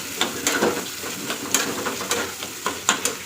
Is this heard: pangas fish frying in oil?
yes